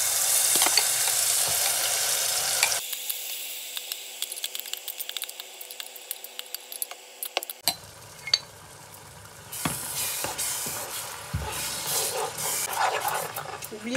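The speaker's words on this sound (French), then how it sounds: "Une fois que c'est un peu chaud, hein, vraiment un peu chaud, on va venir mettre notre piment." Chili peppers sizzle and crackle as they fry in hot oil, a loud, dense hiss with scattered pops and occasional stirring clatter, dropping to a quieter simmer midway before flaring up again.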